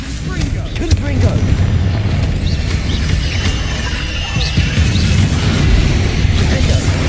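The Confringo blasting spell explodes amid dense, continuous combat noise in Hogwarts Legacy, with booms and crashes layered over a loud, busy soundscape.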